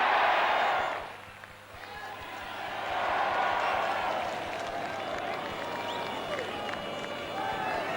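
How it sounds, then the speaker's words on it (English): A large stadium crowd cheers and applauds for the Offaly hurling team at the 1981 All-Ireland final against Kerry. A loud roar opens the clip, dips briefly, then swells again and holds steady. "I would like you all to give them a rousing cheer."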